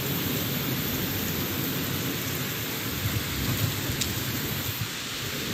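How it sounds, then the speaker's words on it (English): Heavy monsoon rain pours down steadily on a mountain in Thailand, a dense, loud hiss with low thunder rumbling underneath, and no voices. "Then it rained, like just a monsoon came down."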